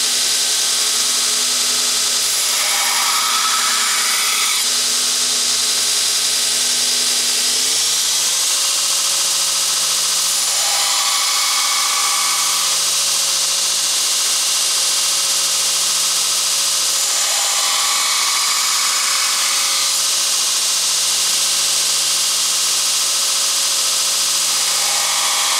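A grinder grinds a bevel onto a steel knife blade, holding a steady high whine that shifts pitch as the blade is pressed and lifted, loud and continuous with no talking.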